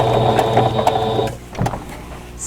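Sewing machine running steadily while stitching a Christmas cottage embroidery block, a dense mechanical whir with rapid stitching that stops abruptly about halfway, leaving quiet room tone with a few small clicks.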